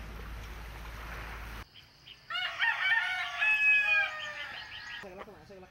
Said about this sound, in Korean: 닭울음 소리가 아침을 깨운다.